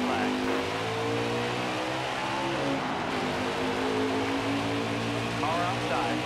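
Race truck engines in NASCAR Heat 5 at Pocono roar steadily as the field accelerates at the green flag, a loud sustained multi-engine drone with layered harmonics and faint engine whines rising near the end.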